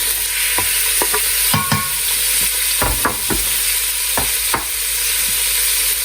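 Steady hot-oil sizzling of chicken frying in ghee in a pan, with intermittent scrapes and knocks as it is stirred. No voices.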